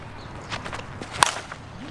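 An Anonymous Athletics Relentless senior softball bat strikes a ball once, a sharp, loud crack standing out from quiet outdoor field ambience with a few soft scuffs before it.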